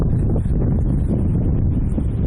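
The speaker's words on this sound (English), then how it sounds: "That wind is kicking, people." Strong wind in a snow storm buffets the microphone with loud, continuous low roaring and rumbling gusts, and no other sounds break through.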